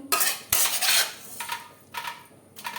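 A metal spatula scrapes and clanks against a pan while mixing potatoes with salt, turmeric and raw mustard oil for an aloo mutton curry, in several short rhythmic strokes, close and clear with no talk.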